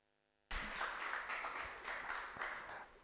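An audience breaks into steady, sustained applause after a speech at a stakeholder dialogue event on the future of work, starting abruptly from near silence and continuing evenly as a dense wash of clapping.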